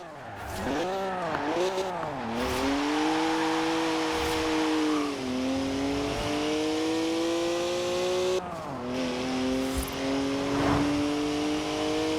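A BMW engine in the racing game Forza Horizon 4 revving up and down through gear changes, then holding a steady high drone as the car drives on, loud and close with no talk.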